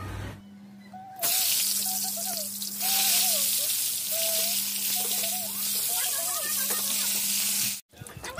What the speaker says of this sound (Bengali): এই বেগুনগুলো আগে ভেজে নেবো, তারপরে আলুগুলো ভেজে চিকেনটা বসাবো।